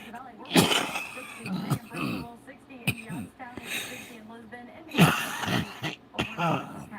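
A few short coughs and throat-clearing bursts break up ongoing nearby talk, the loudest coming near the start and again midway.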